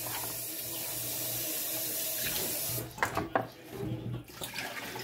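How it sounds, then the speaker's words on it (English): Tap water runs steadily into a kitchen sink while rice is rinsed, a constant hiss that gives way after a few seconds to uneven splashing and sloshing as the grains are swirled. "Like wash my rice 2 times or 3 times."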